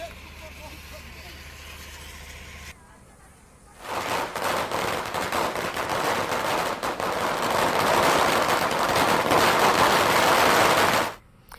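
Loud, dense crackling and popping bursts of firecrackers go off outdoors on a street on Diwali night for several seconds, after a quieter stretch of background noise.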